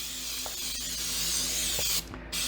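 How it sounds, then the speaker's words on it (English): Continuous hiss of a coconut-flavored food-safe spray lubricant from an aerosol can, sprayed steadily and close for about two seconds, with a brief pause before spraying resumes. "and then spray the hell out of it."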